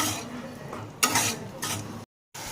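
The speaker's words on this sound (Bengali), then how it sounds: "গ্যাসের ফ্লেম মিডিয়াম রেখে এবার এটাকে ভালো করে কষিয়ে নেব।" Spice paste with yogurt and sugar is sautéed in a pan over a medium flame, giving a soft sizzle with brief scraping stirs before a short silent gap.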